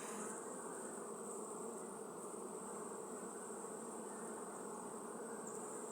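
Carniolan honey bees swarm around an open hive during a summer honey harvest, producing a dense, continuous buzzing drone that stays loud and even throughout with no voices.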